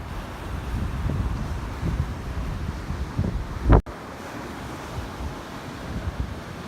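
Blustery wind buffeting the microphone while fishing by the sea, with waves and surf rumbling underneath and a sharp gust burst midway.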